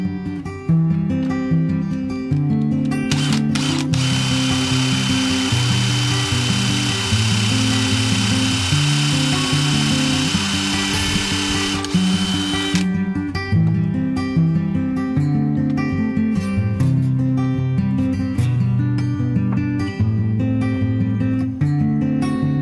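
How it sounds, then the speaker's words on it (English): A power drill bores pocket holes with a pocket hole jig in mold sides for a resin river cast kitchen table; one long, steady whining burst of about ten seconds sits under background music, which continues before and after. "So let's begin by drilling holes with my crack pocket holes jig."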